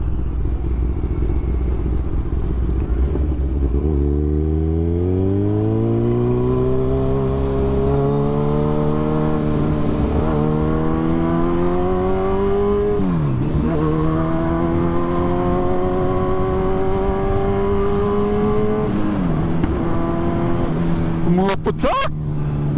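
Kawasaki Z1000R motorcycle riding with its engine revving up through the gears in rising, falling sweeps, a loud close exhaust note with a burst of sharp popping near the end.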